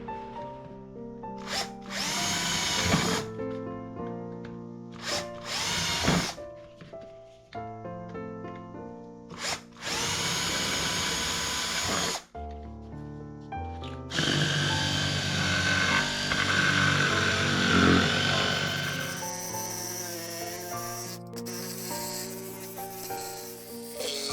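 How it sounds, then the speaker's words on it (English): A jigsaw cuts through a dried, wood-burned gourd in several short loud bursts with brief gaps at first, then runs in one longer continuous rasping cut. "Next item is to cut this all out with a jigsaw, and then we'll clean the guts out."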